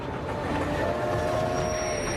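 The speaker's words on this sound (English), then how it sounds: "Pierce, his wife Jane, and their son Benny were in a train wreck." A train rolls past loudly with a steady rumble and faint squealing wheels, a continuous mechanical drone with a thin high whine, no voices.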